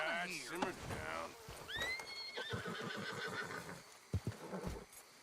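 A horse in the video game Red Dead Redemption 2 gives a sharp whinny amid hoof clip-clops and camp noise, with people talking over and around it.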